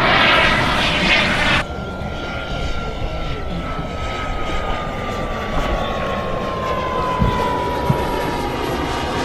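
Model jet airplane at a jet-model flying event, a loud sustained whine overhead that shifts in pitch as it passes, with a sharp change in tone early on as it moves away, then a steady roar.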